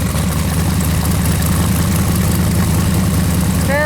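The 383 V8 in a Camaro runs loud and close with a deep, steady rumbling idle that never lets up, and the low engine pulse stays constant throughout.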